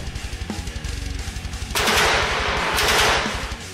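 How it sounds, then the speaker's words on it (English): A turret gun fires on a car in a Gaslands tabletop car-combat game: rapid machine-gun bursts build into a loud, dense roar of gunfire that holds for about two seconds and then fades. "Then a turret activates and shoots Patrol 1, and deals 3 hull damage to it."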